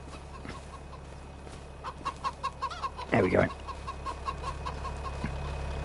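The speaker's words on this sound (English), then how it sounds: "Lots of chickens." Chickens cluck in a farmyard in Farming Simulator 25, a run of short rhythmic clucks with one louder squawk in the middle, fairly close over a steady low hum, with a brief spoken remark.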